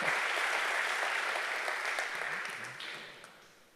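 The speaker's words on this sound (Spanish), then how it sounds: "Dale un fuerte pero fuerte aplauso si le aplaudís." Congregation applauding during a church sermon: a dense, sustained wash of many hands clapping that fades gradually toward the end, with no talk over it.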